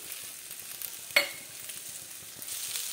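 New potatoes and shelled peas fry quietly in a pan while being stirred, with a soft sizzle and one sharp scrape or clack partway through.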